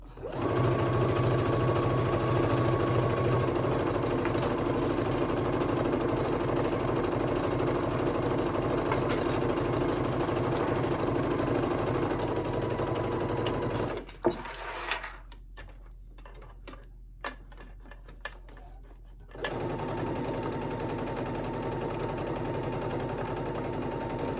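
A sewing machine runs steadily close up while stitching around the perimeter of a pocket on a summer halter maxi dress, then stops for several seconds of quiet handling before the motor hums back to life.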